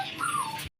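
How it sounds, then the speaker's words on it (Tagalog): A dog at a seclusion house gives a single short whimper, a thin rising-then-falling whine lasting under a second and cut off abruptly into silence. "Yung mga aso dito."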